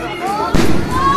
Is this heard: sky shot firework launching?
yes